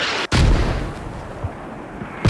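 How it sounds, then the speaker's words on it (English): Incoming mortar fire in a military video game: a sharp close blast opens, then low rumbling booms roll on and another heavy impact lands at the end, with no talking. "Mortars coming in"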